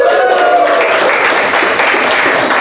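A comedy club audience at a stand-up show cheers and applauds loudly and close by, with a dense burst of clapping mixed with whoops that holds steady for the whole stretch.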